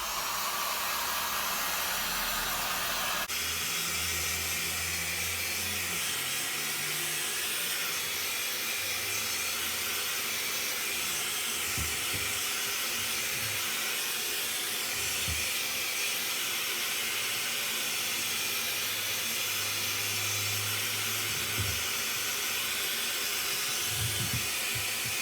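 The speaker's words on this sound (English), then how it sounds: "so let's use my heat gun" A heat gun blows a loud, constant hissing rush of air over an acrylic pour painting, running unbroken after a short start with faint low knocks and bumps beneath it.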